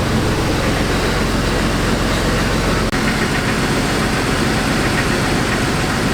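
A 2001 Jeep Cherokee XJ engine idles with a wrist pin knock, a steady loud low rumble with a fast even ticking running through it and no speech.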